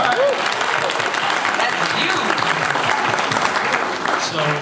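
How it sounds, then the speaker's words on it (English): Audience at a Motown-themed film gala breaking into loud, sustained applause that fills the room, with a speaker's voice briefly heard over it. "Clap for that."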